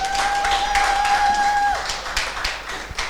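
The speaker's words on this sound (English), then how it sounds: "please clap." Audience applause at a Lagos State education event in Nigeria, steady broadband clapping filling the room under a sustained electronic tone that cuts off midway, the crowd noise thinning toward the end.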